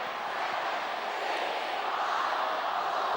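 Large rugby league stadium crowd roaring in a steady, dense wash of cheering and noise, loud and continuous throughout with no distinct individual voices standing out.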